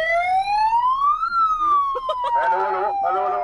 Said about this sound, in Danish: Sirenen, meget sirenen nu.